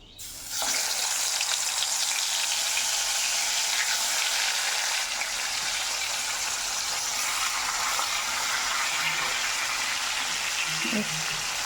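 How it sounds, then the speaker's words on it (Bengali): Fish fries in hot oil in a home kitchen, giving a loud, continuous sizzle that starts abruptly and holds steady for the whole stretch, with no voices. "এই মাছটা ভাজা হোক"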